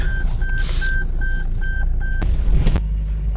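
A Toyota Fortuner's seat belt warning chimes six times in a steady, evenly spaced run of short beeps over low engine idle, followed by a couple of sharp clicks.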